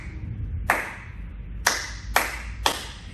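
Four sharp handclaps land alone in a steady dance-rhythm pattern, close and crisp, with a gap before the first and the rest spaced evenly, over quiet low background hum during a swing dance lesson.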